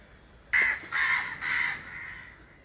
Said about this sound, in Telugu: మా ఊర్లో కాకులు ఎక్కువండి.